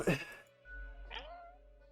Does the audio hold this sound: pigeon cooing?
no